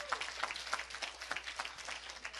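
A church congregation claps hands during a sermon, a steady run of crisp, fairly quick handclaps from a crowd, moderately loud and continuous with no talk over it.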